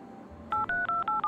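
Touch-tone telephone keys beep in the video game Leisure Suit Larry: Wet, five crisp dialing tones in quick succession, loud and close after a brief quiet moment.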